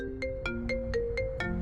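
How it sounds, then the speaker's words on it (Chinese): A mobile phone rings for an incoming call, its electronic ringtone sounding as a rapid series of short, bright, evenly spaced melodic beeps, close and clear against low background noise. "张警官怎么会突然打电话来？"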